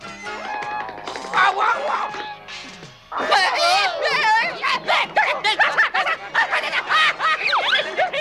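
Several dogs bark and yip excitedly in a rapid, overlapping flurry, loud and close, with whimpers mixed in and voices underneath.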